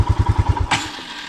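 A Royal Enfield Himalayan 411 motorcycle engine struggling on a trail, chugging in rapid, uneven low thumps before abruptly cutting out, leaving a fading mechanical clatter.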